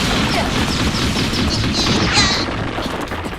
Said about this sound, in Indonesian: Siulan meriam lagi!